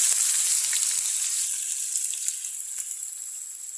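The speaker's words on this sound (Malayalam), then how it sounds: "നമ്മൾ ഈ പാവയ്ക്ക് ഇതിലേക്ക് ഇട്ട് കൊടുക്കാം ഒന്ന് ഫ്രൈ ചെയ്തെടുക്കാം" Bitter gourd fries in a hot pan, giving a bright, steady sizzle that stays loud and close and eases slightly over a few seconds, with no voices.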